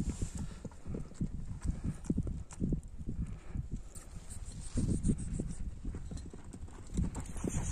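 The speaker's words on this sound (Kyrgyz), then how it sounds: "Шаулдаган ат экен тугандар." Hooves of a five-to-eight-year-old horse clip-clopping in a steady, fairly close walking rhythm, with livestock movement around and no talk over it.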